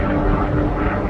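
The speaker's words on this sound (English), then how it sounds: "There's a helicopter right there." A helicopter flies overhead at a shooting scene in Columbia, South Carolina, a loud steady rotor and engine rumble that fills the brief moment.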